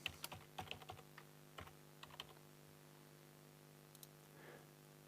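Fingers type a username and password on a computer keyboard, a quiet, irregular run of close clicks and taps that thins out to a few last keystrokes.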